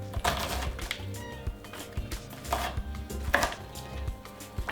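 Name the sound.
knife dicing an onion on a cutting board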